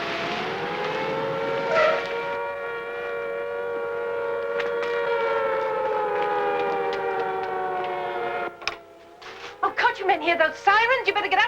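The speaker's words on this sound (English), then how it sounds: "Hear those sirens?" Wartime air raid sirens warning of German buzz bombs, a long steady wailing tone that holds for several seconds before breaking into rising, overlapping wails, heard at a distance.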